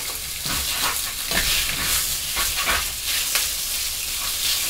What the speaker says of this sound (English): I'm kind of doing the sausage right now in the water I have boiling